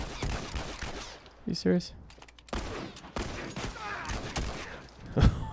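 Scattered gunshots in The Last of Us online multiplayer, a Supply Raid match on the Coal Mine map, crack in uneven bursts with a loud close shot near the end, while a player talks between them.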